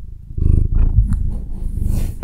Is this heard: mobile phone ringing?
no